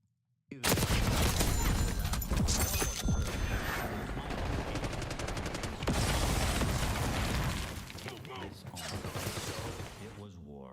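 Sustained heavy gunfire in Black Ops 6 erupts suddenly after a brief quiet, with loud, dense automatic bursts and mechanical clatter continuing for several seconds, then easing toward the end as voices talk underneath.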